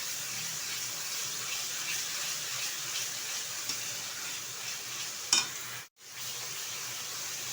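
Water splashes into a pan of simmering shahi paneer, a continuous hissing, bubbling wash close by. A short clatter comes near the end, then a brief drop to near silence.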